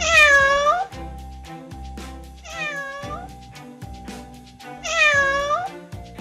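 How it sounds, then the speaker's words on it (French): A cat meows three times, loud and drawn out, spaced a couple of seconds apart over a soft rhythmic background tune. "Les chats."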